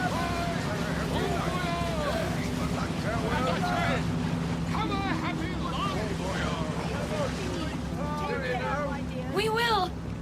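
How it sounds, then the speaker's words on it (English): Ship engines in a radio drama run as a steady low rumble with wind and water noise beneath, continuous throughout while voices speak over it. "Listen, the engines are starting again."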